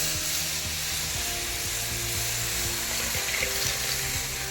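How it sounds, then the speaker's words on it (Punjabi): Gram flour and water batter being poured and stirred into kadhi, a steady watery pouring and swirling wash with light sizzle underneath, continuous and close, with no talking. "ਆਪਣਾ ਵੇਸਣ ਦਾ ਤੇ ਪਾਣੀ ਦਾ ਘੋਲ ਜਿਹੜਾ ਹੈਗਾ ਮਿਕਸ ਕਰਾਂਗੇ"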